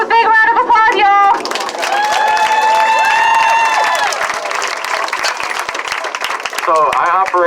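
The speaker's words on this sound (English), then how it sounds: "let's give him a big round of applause, y'all." A crowd at an outdoor community event breaks into sustained applause and cheering for several seconds, with a voice talking just before and just after.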